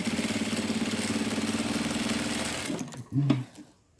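A sewing machine runs steadily for nearly three seconds, stitching a quilt seam along striped fabric, then stops, leaving a few brief handling knocks and a faint whirr.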